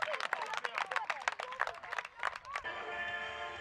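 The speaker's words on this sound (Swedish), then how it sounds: "Ge er själva en stor applåd!" Bootcamp participants clap for themselves in a burst of sharp, irregular hand claps mixed with cheers and chatter, fairly close and quiet, stopping abruptly near the end and leaving a faint hum.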